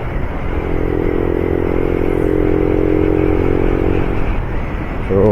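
A motorcycle engine drones steadily at cruising speed close by on a rural-to-urban ride, mixed with constant wind rush and road rumble, with no talking.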